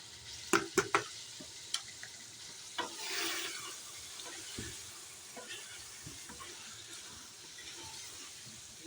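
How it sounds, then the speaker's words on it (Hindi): Potatoes for aloo qeema, a beef mince and potato curry, fry softly in a pan while a spoon stirs them with several sharp scraping clicks over a faint, low sizzle. "अब हम आलू भून लेंगे।"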